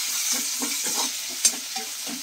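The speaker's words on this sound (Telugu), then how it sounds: "ఉల్లిపాయలు కూడా వేసేసుకుని వేపుకోండి బాగా" Onions sizzle steadily in hot oil in a pan for a cabbage fry while a spoon stirs them in repeated scraping strokes, with one sharp pop partway through.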